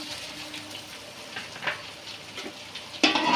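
Idli pieces and onions are stirred in a frying pan, giving a soft sizzle broken by a few scraping strokes, and the frying jumps louder near the end as more goes into the pan.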